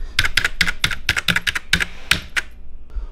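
Rapid clattering keystrokes on a computer keyboard during a Slither.io gaming session, a quick run of about a dozen close, crisp clicks heard alone, ending in a brief pause.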